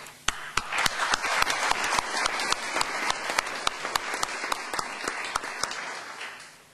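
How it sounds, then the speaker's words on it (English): Audience applause at a leadership fellowship program event, a steady, dense wash of many hands clapping with sharp individual claps standing out, moderately loud and sustained without talk. "I'd like to applaud you"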